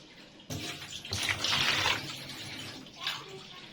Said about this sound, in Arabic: وهنزود ميه بقى، يعني بتاع ازازه ميه كده، لتر ميه